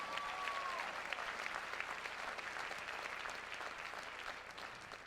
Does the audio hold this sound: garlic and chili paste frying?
no